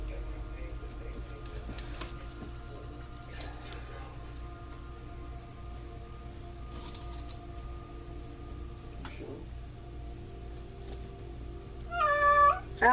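A house cat lets out a short burst of loud, close meows near the end, after a long stretch of quiet room hum while a placket zipper is being sewn.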